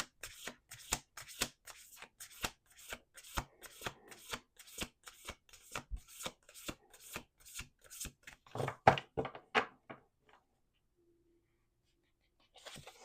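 Close, rhythmic card shuffling with quick riffles and taps, ending in a final flurry before falling silent.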